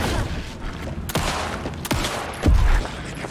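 Gunfire in the horror video game Alan Wake 2: three or four sharp, loud shots spaced about a second apart, the last one heavier and booming, over a low, murky game ambience.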